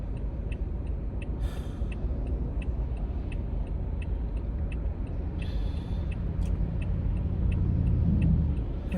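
Passing cars swish along a road in a steady roadside rumble, with one vehicle drawing louder and nearer toward the end, plus a faint regular ticking throughout.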